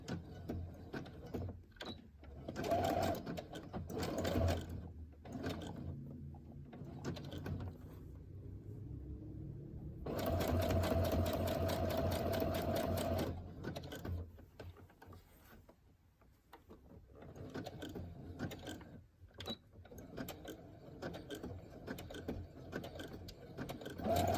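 A sewing machine runs a zigzag stitch around the edges of pieced fabric, a steady mechanical whirring in bursts that stop and restart, close and fairly loud, with no talking.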